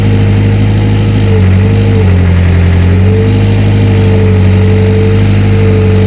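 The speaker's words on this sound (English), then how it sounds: "that's why the machine is so revved up" An excavator's engine runs steadily revved while digging rocks and pulling them into a hole, a loud, continuous mid-pitched drone with sustained harmonic tones that rise and fall slightly and no voices.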